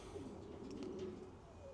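Pigeons coo softly in a breeding loft, low murmuring calls that run steadily through the background with no talking.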